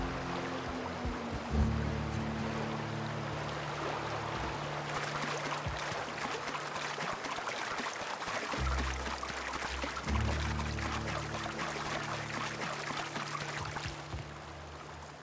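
A waterfall in the video game The Outer Worlds rushes with continuous broadband splashing and roar, steady and fairly close, with a low droning hum layered underneath throughout and no talking.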